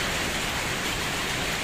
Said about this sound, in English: the raindrops you can hear